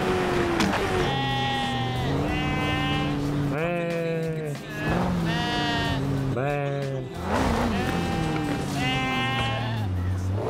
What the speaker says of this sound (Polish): Czy ja uderzyłem o owce?